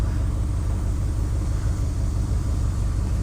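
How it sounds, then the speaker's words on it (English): An old pickup truck engine runs on old gas with water in it, giving a steady, close, low rumble that holds an even level throughout. "I can't believe how good this truck's running"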